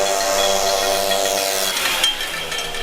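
A Motobécane motorcycle's metal kickstand scrapes along the road surface. The grinding rasp is loud and continuous and sits under the motorcycle noise for about three seconds.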